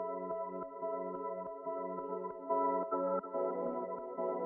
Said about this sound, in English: So this is what the chopped up sample sounds like.